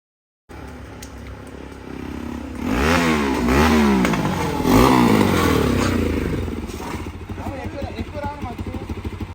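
A Bajaj NS200 motorcycle with its stock exhaust revs hard several times, the engine note sweeping up and down loudly up close before settling into a rough, clattering idle.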